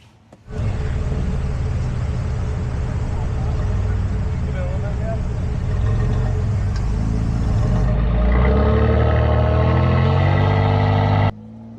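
Truck engine revving low and steady while crawling slowly over obstacles at Daytona Beach Truck Week, a continuous loud rumble that swells louder partway through, with people talking over it.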